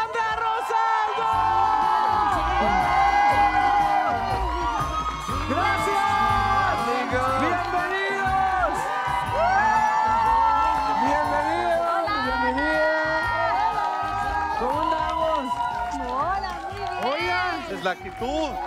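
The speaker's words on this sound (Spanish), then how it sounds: "Les pido un aplauso, una bulla, un grito." A television studio audience cheers, whoops and claps loudly for guest arrivals, a dense continuous roar of voices and shouts with music underneath, sustained throughout.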